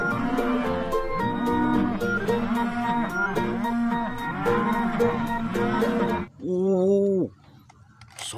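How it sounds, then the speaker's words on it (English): A cow moos loudly and nearby, with a long sustained low call held for roughly six seconds, then a shorter second moo after a brief pause. "This is a cow."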